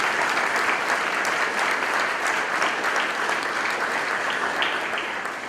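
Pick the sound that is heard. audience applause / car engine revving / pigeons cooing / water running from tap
audience applause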